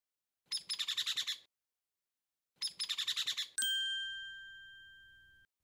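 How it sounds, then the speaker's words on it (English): Two short bursts of rapid, stylized chirping stand in for a common loon in the Molly of Denali game, followed by a bright, ringing chime that fades slowly. "You found where the Duhlik lives. That's a common loon in the Yupik language."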